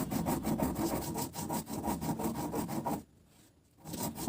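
Cumin and coriander being ground together by hand on a stone, a rapid rhythmic scraping and rubbing that runs steadily, pauses briefly, then starts again.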